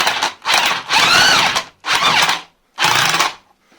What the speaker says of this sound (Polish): I teraz widzicie, jak będę wykręcał tą śrubę